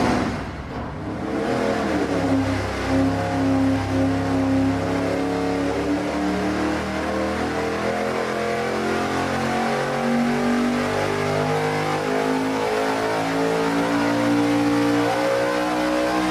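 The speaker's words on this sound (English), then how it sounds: "Our first run on this engine is going to be bank-to-bank." A V8 engine roars under load on a dynamometer, fitted with a bank-to-bank intake manifold and an air-to-water intercooler. It holds a steady, loud, sustained rev that climbs gradually throughout and runs alone with no talk.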